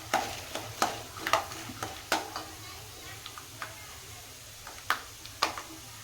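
A spoon stirs and fries ingredients for Iyengar-style avalakki in a pan, giving sporadic close scraping clicks and taps over a faint, steady sizzle.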